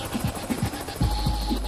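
A police helicopter's rotor thumps in a quick, steady rhythm, loud and close, over a constant engine whine.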